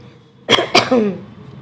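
Two sharp coughs in quick succession, close and fairly loud, followed by a short vocal sound trailing off.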